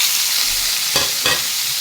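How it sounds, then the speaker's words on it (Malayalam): Bilimbi pachadi ingredients fry in a pan, giving a steady close sizzle with two short scraping stir strokes about a third of a second apart, and no talking. "അപ്പോൾ നമുക്കിത് നന്നായിട്ടൊന്ന് ചുവക്കെ വറുത്തെടുക്കാം"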